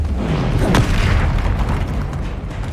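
The Confringo explosion spell goes off in Hogwarts Legacy as a loud, sustained booming blast that rumbles through the whole moment.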